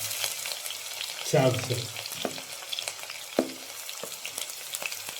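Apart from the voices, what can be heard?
garlic and ginger frying in a pan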